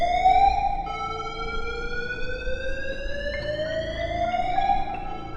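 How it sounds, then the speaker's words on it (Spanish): A loud, steady emergency-exit door alarm in a building wails continuously with a slowly rising pitch, harsh and piercing, with no voices. "la alarma que se activaba con la apertura de las puertas de emergencia"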